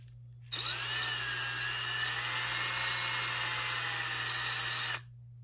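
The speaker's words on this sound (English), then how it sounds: "we'll just use the screw gun, put it on reverse." A screw gun spinning in reverse to back out a Phillips-head screw on a bike lock mount, one sustained high whine from the motor that starts abruptly and stops after about four and a half seconds, close and alone.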